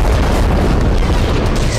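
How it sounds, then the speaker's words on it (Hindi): Heavy explosives bring down the Al-Shifa hospital building in Gaza, a loud, sustained low boom rolling on without pause. "जोरदार धमाके के साथ गाजा के सबसे बड़े अस्पताल अल-शिफा को उड़ाया गया"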